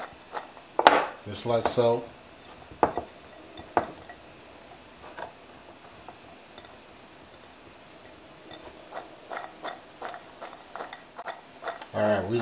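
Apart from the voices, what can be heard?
tossing food around in a pan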